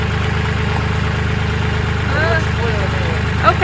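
A Kioti tractor with pallet forks idles nearby, a steady low rumble with a faint periodic knock running underneath, and a few brief squeaks and a light clank near the end.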